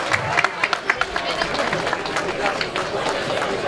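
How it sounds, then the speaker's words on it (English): An audience at a charity auction evening gives a round of applause, steady dense clapping and crowd noise with an auctioneer's voice over it. "Round of applause."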